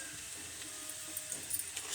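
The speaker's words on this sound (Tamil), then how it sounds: "பிரண்டையை போட்டு நல்லா வதக்கி எடுத்துப்போம்." Soft steady sizzle of pirandai sautéing in a pan with salt and asafoetida, faint and continuous with a few light stirring scrapes toward the end.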